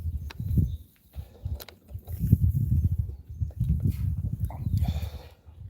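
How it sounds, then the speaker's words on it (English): Horses move about and eat grass nearby, giving soft irregular thumps, shuffles and tearing sounds at a moderate level, with brief gaps and no talking. "Horses have got a bit to eat right now,"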